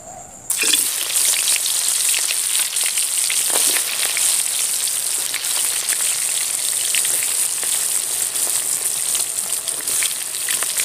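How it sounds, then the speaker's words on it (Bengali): Young jackfruit pieces fry in hot white oil, a loud, dense, continuous crackling sizzle held close and steady throughout, with faint scattered pops and no talking. "তেলটা গরম হয়ে গেছে। এবারে হিঁচড়গুলোকে ভেজে নেব।"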